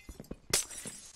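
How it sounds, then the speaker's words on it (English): In Minecraft, a few quick thuds lead into a single bright burst of shattering glass, followed by a short fading tinkle. "Smashing the glass."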